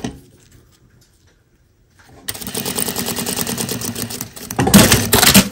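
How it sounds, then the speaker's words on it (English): Sewing machine stitching an invisible zipper, starting after near silence and running in a fast steady mechanical patter, louder in a final burst, no talk. "we're going to sew down to that white line"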